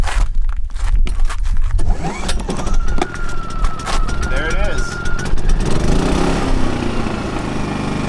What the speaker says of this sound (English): So fuel on, choke out, engine switch on, economy mode off.